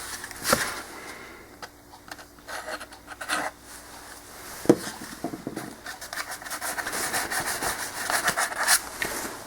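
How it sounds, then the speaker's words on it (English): Medium CA glue is rubbed by hand onto a mount on a Puddle Bug model boat, making close, irregular scratchy rubbing strokes with sharp little taps between them. "I just rubbed some CA, medium CA."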